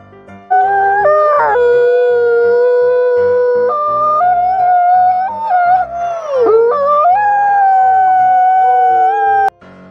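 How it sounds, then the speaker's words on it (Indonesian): A wolf howls loudly and up close in long, sustained wavering notes that rise and fall, with a low rhythmic pulse underneath, ending abruptly. "hewan ini namanya serigala hutan."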